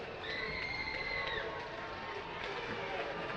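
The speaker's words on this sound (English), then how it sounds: "This Smithfield crowd is getting loud." A high school hockey crowd at a La Salle vs. Smithfield game fills the rink with a steady roar and cheering, with a whistle sounding and an announcer talking over it.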